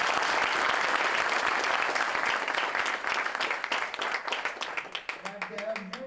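A conference audience at a university conclave breaks into sustained, dense applause that fills the room, gradually thinning into scattered individual claps near the end, with a voice speaking faintly over it.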